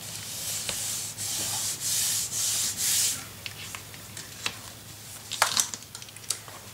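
Paper is burnished down in a shabby chic pink mini album, heard as several close, soft rubbing strokes followed by light scattered taps and scrapes, quiet and with no talk.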